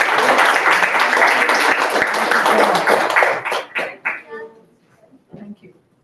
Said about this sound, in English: Let's have a louder applause for them.